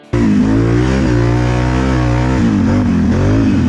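An off-road vehicle engine fires up and revs through a throaty MBRP aftermarket exhaust, holding a steady loud drone before a brief throttle change.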